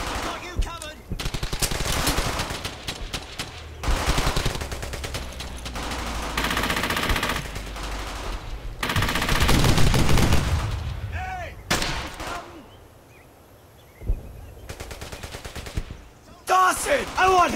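Loud, close machine gun fire in Brothers in Arms Hell's Highway, with long sustained bursts broken by short pauses and a quieter gap near the end, and voices shouting over the battle.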